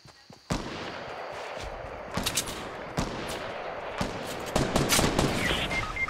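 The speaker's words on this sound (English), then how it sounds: "Holy shit, I got sniped." Sharp sniper-rifle cracks ring out in the Fortnite Battle Royale video game, several loud shots spaced over a few seconds against continuous game noise, with faint voices underneath.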